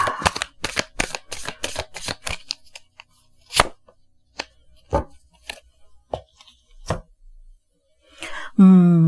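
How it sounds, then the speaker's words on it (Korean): Tarot cards being shuffled and drawn: a quick run of crisp riffling snaps up front, then scattered single card slaps and flips spaced out over several seconds, close and fairly loud, with a brief voice at the very end. "약간 지금 보조 카드 필요할 것 같아서 지금 뽑도록 하겠습니다"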